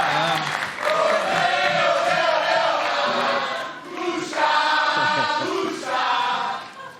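A studio audience at a TV talk show cheers and chants in loud, rhythmic bursts for football coach Vanderlei Luxemburgo, with the crowd voices swelling and dipping over several seconds.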